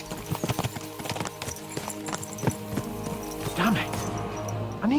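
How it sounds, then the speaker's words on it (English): Horses galloping in the medieval game Kingdom Come: Deliverance 2, with rapid rhythmic hoof clip-clops and a brief whinny, under music and voices. "Let's really spur these horses on, eh?"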